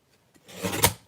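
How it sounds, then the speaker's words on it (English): Excess paper is trimmed off a paper craft project with a brief, close rasping cut that swells and fades within about a second. "So we're going to trim all this excess off."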